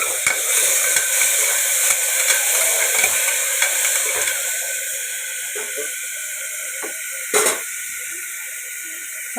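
Tomatoes sizzling as they fry in a pan for rasam, a steady bright hiss that gradually eases, with a few small pops and clinks along the way.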